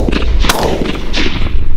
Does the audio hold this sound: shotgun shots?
yes